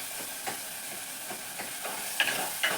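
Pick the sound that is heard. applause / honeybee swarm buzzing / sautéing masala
sautéing masala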